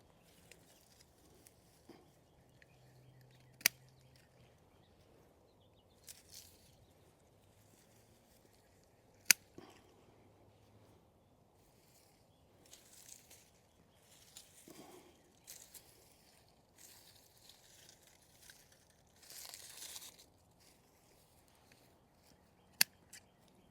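Hand shears trim a Vera lavender plant outdoors, producing sparse, crisp snips spaced several seconds apart, faint against quiet rustling of stems and foliage.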